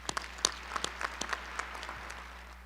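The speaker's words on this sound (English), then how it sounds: "Let's have a round of applause." Scattered applause at a medical school commencement ceremony, a thin, fairly quiet patter of individual claps over a low steady hum, tapering off toward the end.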